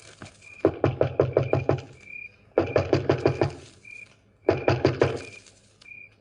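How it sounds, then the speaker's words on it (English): Someone knocks on a door in a 1946 radio drama, three quick bursts of sharp raps separated by brief pauses, close and clear with no talking. "I'll go knock on the door"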